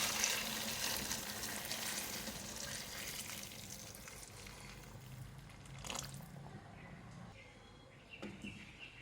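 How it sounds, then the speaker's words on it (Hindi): Hot water from a kettle poured into a pot of frying chicken pulao, a soft splashing pour with faint sizzling that fades and thins out, ending in a few quiet drips and stirring sounds. "चिकन को गलाने के लिए मैं पानी डाल रही हूँ।"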